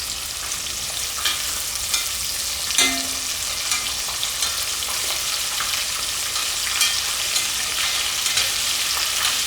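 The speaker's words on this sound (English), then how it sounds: "Should fry this for about 3 to 5 minutes, depending on the size of your shrimp" Shrimp frying in hot oil make a steady, bright sizzle with scattered pops and sharper crackles. The sound stays close and continuous, with one brief clatter partway through and no talking.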